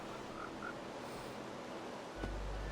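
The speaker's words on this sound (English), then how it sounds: "Put in a bunch of frogs and tadpoles." Frogs in a video game island pond with tadpoles give two faint, short croaks over a steady hiss of ambient noise, followed by a dull thump near the end.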